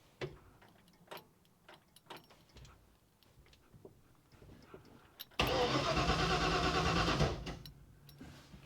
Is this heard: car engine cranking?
yes